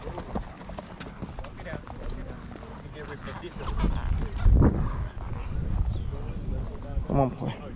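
Horse hooves clip-clop on a ranch trail ride, the steady footfalls close by and mixed with rustling, while people talk over them throughout.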